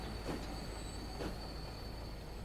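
A train rounds a curve in Transport Fever 2. Its wheels hold a steady high-pitched squeal over a constant rolling rumble, with two soft clattering surges along the way, heard at a low, distant level.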